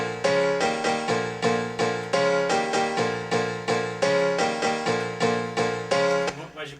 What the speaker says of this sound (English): They sampled a big Yamaha grand piano.